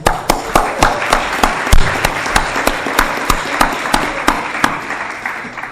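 A lecture audience applauds before a conference begins, with loud, close, sharp individual claps standing out in a regular rhythm over a softer bed of wider clapping that gradually thins.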